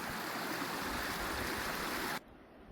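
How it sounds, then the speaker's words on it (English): Dog wading into a cold creek, steady rushing and splashing water loud and close, cutting off abruptly near the end. "dip your belly in that cold water and cool off."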